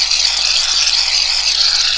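Shaving foam sprayed from an aerosol can into a tilted tray, a close, continuous hissing jet that holds steady for about two seconds with slight rattly flutter.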